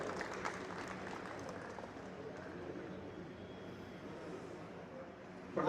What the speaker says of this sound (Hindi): प्लीज एक बार जोरदार तालियों से स्वागत करें।